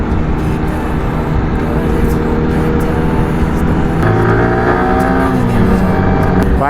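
A superbike fitted with an SC Project exhaust roars loudly near Umiam Lake, with a constant engine drone and then a rising, sweeping rev that climbs in pitch over the last few seconds.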